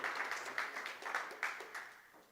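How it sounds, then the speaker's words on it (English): Audience at a Linux gaming talk breaks into a short burst of scattered applause, moderately close, swelling briefly then thinning out over a couple of seconds. "Please clap."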